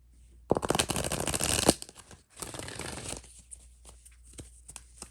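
Tarot cards being riffled and shuffled close by, a long rapid flutter, a short pause as cards stick together, then a second shuffle with scattered taps and slides.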